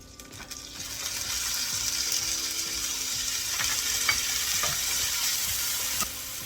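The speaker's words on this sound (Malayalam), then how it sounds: "അടുത്തത് ജിഞ്ചർ ആൻഡ് ഗാർലിക് പേസ്റ്റ്." Ginger garlic paste fries in a pan with a continuous loud sizzle, occasional small crackles and clinks, close and steady.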